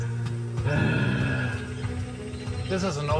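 A hunter's lure imitating a female jaguar's mating call in the Pantanal gives a rough, grunting rasp of several pulses, fairly faint over background noise and some talk.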